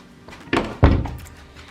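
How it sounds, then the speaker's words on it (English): An indoor door, likely a bathroom door, pushed shut with a soft rustle followed by a solid, fairly loud thunk as it closes, then a short fading tail; no talking. "I'm gonna close this door."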